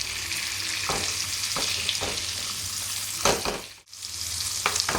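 Salmon pieces fry gently in a pan as they brown on every side, giving a steady soft sizzle throughout with a few brief clinks and stirring scrapes and one sudden drop near the end before the hiss returns.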